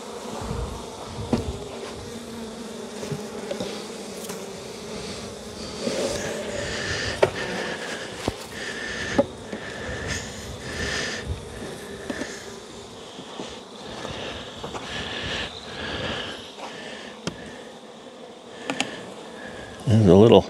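Honey bees buzz continuously inside a hive box, a dense steady drone close to the microphone, with a person speaking briefly over it.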